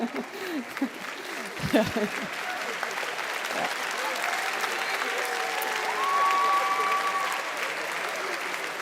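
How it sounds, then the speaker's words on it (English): A crowd applauds steadily for several seconds, the clapping swelling slightly toward the end, with faint voices mixed in. "that's worth an applause"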